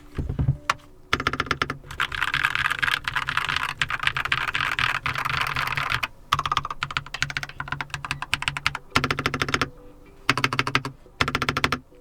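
A Keychron K2 mechanical keyboard clatters under fast, dense typing in long bursts broken by short pauses, close and crisp with no voices.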